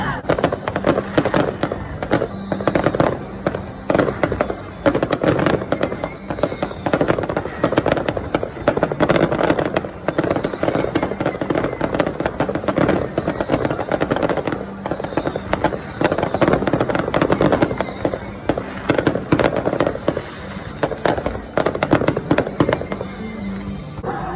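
A dense, continuous barrage of firework bangs and firecracker crackle, loud and unbroken throughout, from a fireworks display after the final regular-season home football game of the 2019 season, with faint crowd noise beneath.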